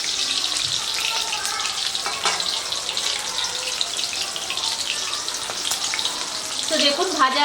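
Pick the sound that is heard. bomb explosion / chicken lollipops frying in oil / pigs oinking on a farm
chicken lollipops frying in oil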